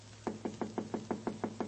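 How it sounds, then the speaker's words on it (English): Soft door knocks made as a radio sound effect, eight light, evenly timed taps close by, with a low steady hum underneath and no voices. "Herbert, that still isn't loud enough. Why is the knock so soft?"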